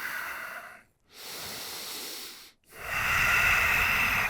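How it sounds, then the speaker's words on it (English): Deep, slow breathing in downward facing dog during a yoga session, three long airy breaths up close, separated by two short silent pauses. "Deep breaths here."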